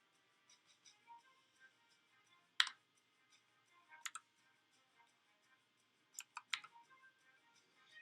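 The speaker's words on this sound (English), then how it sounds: "I'm gonna type it in slow for you guys" Keys on a computer keyboard are tapped slowly to enter a code, with sparse, faint clicks and a few short bursts of quick keystrokes in a quiet room.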